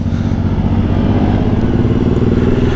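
A 2024 Yamaha X-Max Tech-Max scooter accelerates through city traffic, its engine droning loud and steady from close by, with a continuous buzzing rumble and no speech.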